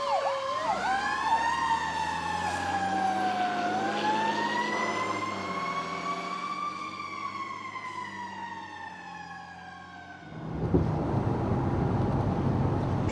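Fire engine siren from Engine 27 pulling out of the station bay to a boardwalk fire, a loud sustained wailing tone that rises and falls smoothly, then gives way to a burst of rumbling engine and road noise.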